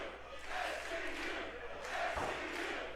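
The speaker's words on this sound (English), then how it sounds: "Crowd getting behind SCU as they should" A wrestling crowd at a Midnight Heat indie show cheers steadily and loudly throughout, a dense roar of many voices with a brief thump near the end.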